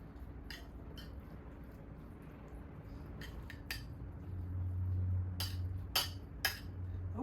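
Cutlery clinks and scrapes softly against a bowl while rice paper roll filling of mushroom and vegetables is mixed, a few sharp metallic ticks scattered over a quiet, steady background.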